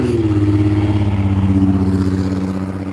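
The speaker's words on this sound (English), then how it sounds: "here comes another loud car" A loud car drives past on a road near a beehive, its engine a deep, throbbing drone that swells and then slowly fades as it moves away, close and heavy with no voices.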